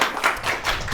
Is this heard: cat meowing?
no